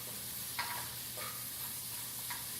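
Red onions sizzle softly in coconut oil, a steady low hiss with a few brief scraping stirs, with no one talking.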